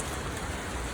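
Steady heavy rain falls as a dense, even patter on surfaces outdoors in the city, loud and continuous with no voices over it.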